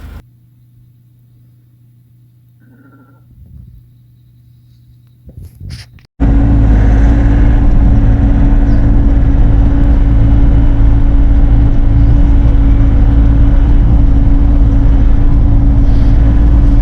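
A Bobcat E42 R series mini excavator grading dirt to fill a low spot in a food plot, its engine droning loud and steady with a low hum once it kicks in after a quiet start.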